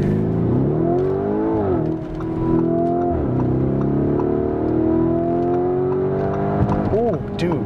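A Lamborghini Urus accelerates hard, its engine climbing through rising revs with quick gear changes and a strong throaty roar, heard close from inside the car with people talking over it.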